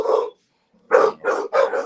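Bully-breed dogs at a kennel barking, four short deep barks with a brief pause after the first, fairly loud and close, no talking.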